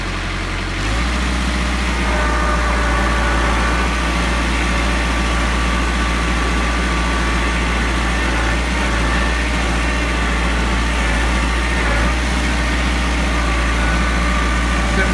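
A vehicle hauling a heavy load of bricks runs its engine with a loud, steady low rumble that starts abruptly and holds constant throughout, with no talk over it.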